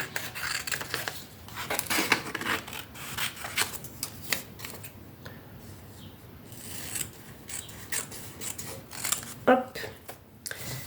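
Scissors snip through magazine paper for a collage, giving crisp, close cuts and rustling paper handling in irregular bursts with a few brief pauses.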